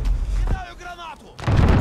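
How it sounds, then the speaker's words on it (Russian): A grenade goes off in the online shooter Call of Duty: Modern Warfare, a loud broadband blast near the end following a burst of gunfire and game noise, with a voice briefly speaking over the action. "Кидаю гранату!"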